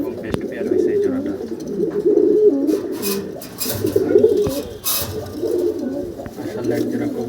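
Champion racing pigeons, a breeding pair kept at home, coo in low repeated phrases close by, with someone talking over them and brief wing flutters and clicks.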